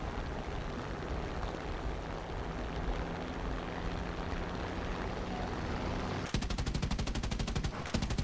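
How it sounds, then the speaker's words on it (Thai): Gunfire in the War Thunder video game: a steady engine and battle rumble runs throughout, then a loud rapid burst of automatic cannon or machine-gun fire breaks out near the end. "ยิงไม่โดนครับ"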